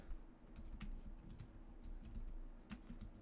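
Typing on a computer keyboard while playing Cyberpunk 2077, a quick run of light clicky keystrokes over faint background game sound, with no talking.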